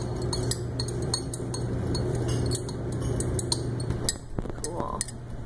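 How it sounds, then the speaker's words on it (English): A glass rod stirring in laboratory glassware during aspirin preparation, giving repeated light clinks and taps over a steady hum, with people talking nearby. "stir it around just a little bit."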